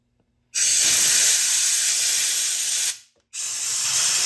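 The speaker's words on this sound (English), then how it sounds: "I'm going to hit the holes with just a little bit of brake clean." Brake cleaner sprays from an aerosol can into the bolt holes of a Tremec TKO600 transmission in two loud, close bursts of hiss, a long one and then a shorter one after a brief gap.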